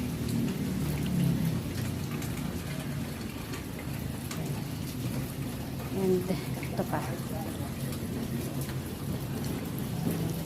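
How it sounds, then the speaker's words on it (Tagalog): Heavy rain pours steadily with a dense hiss of drops on surfaces while a person speaks briefly in Filipino over it. "Pero pag malakas naman yung ulan, ayan, umaanggi dito"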